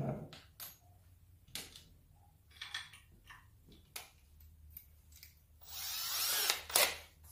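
A small hole is drilled into a scrap of wood for a nail while building a folding wine table, with scattered handling knocks and taps before a brief, close burst of drilling near the end.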